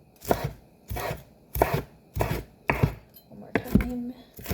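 Asparagus is chopped with a knife on a board for a pasta salad: about eight firm, evenly spaced chops, close and distinct, with a light clink near the end.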